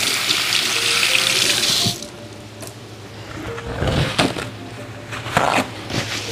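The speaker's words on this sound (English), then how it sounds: "I'm gonna wash my hands, so you can see I wash my hands." Water from a kitchen faucet runs steadily while hands are washed beneath it, a broad close rush that drops off after about two seconds to a quieter flow broken by splashes and squishy rubbing of wet hands.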